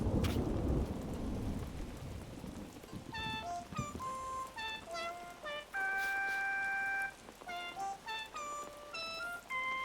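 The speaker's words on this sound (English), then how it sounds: "The thunder." Rain patters and a low thunder rumble opens a stormy scene in the video game Animal Crossing New Horizons, followed by bright chiming melodic tones layered over the steady rain.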